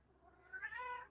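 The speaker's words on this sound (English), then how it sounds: "Do you think Loki would be one of those kitties that like being inside?" A cat gives a single rising meow, soft and fairly faint, lasting about half a second over quiet room tone.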